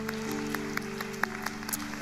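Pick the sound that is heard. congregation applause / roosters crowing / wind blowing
congregation applause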